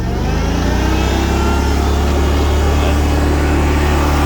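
The engine of a 60-inch Lazer Z commercial-grade zero-turn riding mower revs up and holds a loud, steady roar at close range, with no talking.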